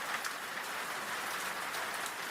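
Steady rain falls in a continuous, even hiss, with soft patters of raindrops on a surface and no other sounds.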